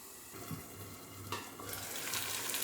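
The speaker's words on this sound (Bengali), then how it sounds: "এই যে আমাদের মশলা ভাজা হয়ে গেছে" Spices fry in a pan for a Bengali prawn and potato curry, a soft sizzle that grows louder toward the end, with light stirring and clinks and no talk.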